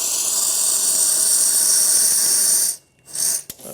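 Rocket Mozzafiato Cronometro R espresso machine dispensing hot water into a cup, a loud steady hiss and rush of water and steam for nearly three seconds, then cutting off with a few short sputters.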